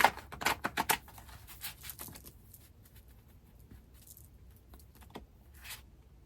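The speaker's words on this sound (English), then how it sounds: "Oh, I want to do it with a good old shuffle this time." A deck of playing cards is riffle-shuffled in a quick burst of crisp clattering flutters near the start, followed by softer scattered card handling and light taps close by, with no talk.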